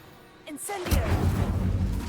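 Incendio fire spell cast in the video game Hogwarts Legacy, a short whoosh followed by a booming burst of flame that roars briefly, just after a voice calls out.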